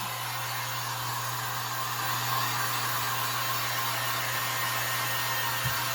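A heat tool blows steadily on a freshly swirled tumbler coating, a continuous airy whir with a low electrical hum that runs unbroken and close, with no talk.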